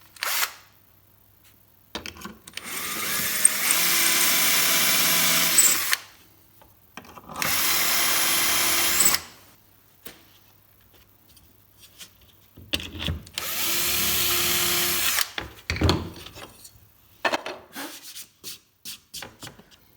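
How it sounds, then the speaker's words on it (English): Power drill driving into wood in three long bursts of steady whirring, separated by quiet pauses and small handling clatter. "Let's just go in with this drill, see how it copes with that, make sure it's all locked down."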